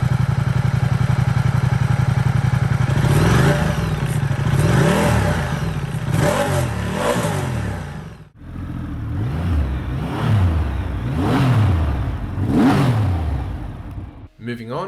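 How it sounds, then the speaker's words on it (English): Ducati Diavel 1260 and Triumph Rocket 3 motorcycles on stock exhausts rev repeatedly in rising and falling sweeps, loud and close, with a short pause midway before the other bike revs several times. "Let's also have a listen to the stock exhausts of both bikes."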